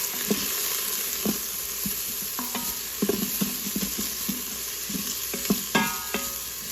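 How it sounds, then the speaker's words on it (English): Chopped onions sauteing in oil with a little turmeric stirred in, giving a steady close sizzle broken by repeated scraping stirs of a spoon in the pot, with no talking. "I'm just going to add this in to let the spice kind of bloom whilst the onion is sauteing."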